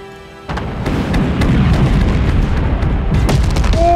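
Cannon fire and explosions in the naval battle game Forts, a deep boom that starts abruptly and gives way to a long, loud rumble of blasts, with sharper cracks toward the end.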